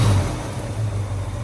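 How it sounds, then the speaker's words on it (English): The 289 V8 of a restored 1965 Ford Mustang A Code fastback rumbles with a deep, steady, close engine sound that stays constant for a brief moment. "we're gonna fire this 289 up"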